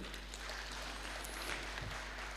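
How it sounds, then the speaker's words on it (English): At a staff recognition and signing event, an audience claps for union officials in a continuous, even wash of hands, moderately faint, with a low steady hum underneath. "please clap for them."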